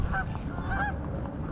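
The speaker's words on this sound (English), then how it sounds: "Here come the geese." Geese honk over a drained lake in Maine, a few nasal calls close together above a rumbling outdoor background.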